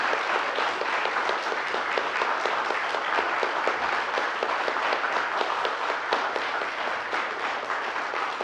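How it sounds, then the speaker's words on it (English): A standing church congregation applauds its veterans during a morning service, a steady, even wash of many hands clapping that carries on without a break at moderate loudness. "we're going to recognize them by giving them a round of applause"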